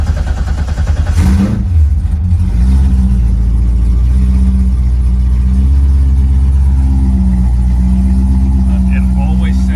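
A Chevrolet Corvette engine cranks briefly, then catches and settles into a loud, steady low idle with a fluctuating hum; a voice talks faintly over it.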